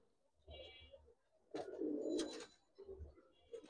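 Giribaz and coloured pigeons give soft, low cooing calls in a few short bursts, faint and close, along with brief rustling and a louder shuffle in the middle.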